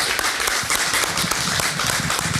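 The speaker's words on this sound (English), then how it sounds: "Give these guys a round of applause" An audience at a live conversation event applauds, dense and steady clapping that fills the room throughout, with no voices over it.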